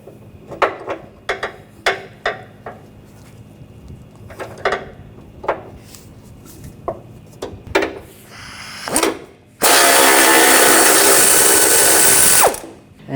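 A 21mm socket turns the bumper bracket nuts on a 2004-2008 Ford F-150: a run of sharp, separate ratcheting clicks and taps, then a loud, steady whir for about three seconds, close and with no talking.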